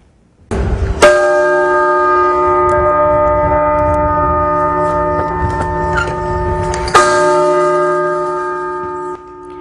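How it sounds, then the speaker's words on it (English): Historic clock tower bells at Rock Island Arsenal ring out loud and close, each strike blooming into a long sustained resonant hum, with two clear strikes and a steady ringing drone between them. "The bells rang 13 times in honor of the 13 original colonies"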